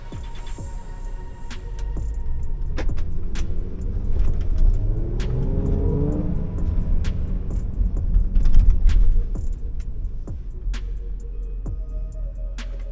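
A supercharged 2018 Land Rover Range Rover Sport SE driven in sport mode, its engine rumbling and rising through acceleration from inside the cabin, with scattered clicks and taps over the steady road drone.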